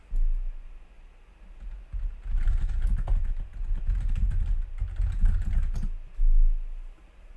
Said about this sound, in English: So I had to type something